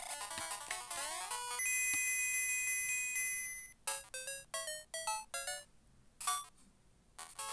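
Chiming bell-like tones from Super Mario Land 2: 6 Golden Coins on a Game Boy, a bright sustained jingle followed by a run of short, sharp ringing notes, clear and alone with no talk.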